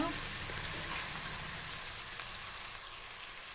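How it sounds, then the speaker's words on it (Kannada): Fenugreek leaves frying in hot tempering oil for a methi chicken biryani, a continuous bright sizzle close by that eases slightly toward the end. "ಒಗ್ಗರಣೆಗೆ ಮೆಂತ್ಯ ಸೊಪ್ಪು ಹಾಕೊಂಡು ಚೆನ್ನಾಗಿ ಫ್ರೈ ಮಾಡ್ಕೊತೀನಿ"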